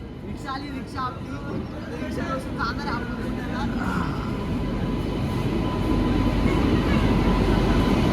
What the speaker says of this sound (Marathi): आलो आहे आपण रेल्वे स्टेशनपर्यंत, तर पोहोचलो आहे